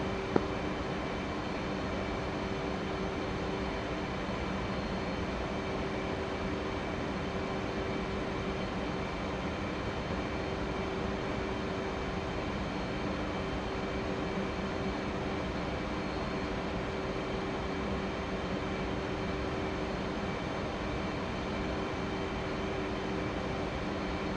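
Steady, even cockpit drone from an F/A-18C Hornet jet in the DCS flight simulator game, a constant broadband hum with faint tonal lines, quiet and unchanging, without speech.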